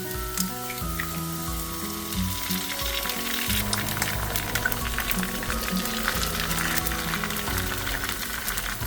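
Eggs are cracked into a pan of wilted greens on low heat, frying with a continuous crackling sizzle, while clinking pan sounds and background music run underneath.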